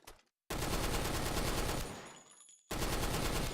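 The NX1 rifle in the video game Blackshot Revolution fires on full automatic in loud, rapid, unbroken bursts, with a brief pause between two long strings of shots.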